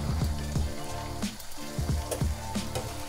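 Rigatoni tipped into a pan of sauce for pasta alla boscaiola, setting off a steady close sizzle and frying crackle with repeated scraping stirs and clinks of a utensil against the pan.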